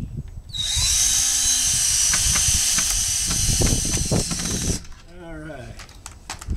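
A power drill drives screws into a wooden honey bee box, its steady high whine running loud for about four seconds before stopping, followed by a brief chirping squeal and faint clicks.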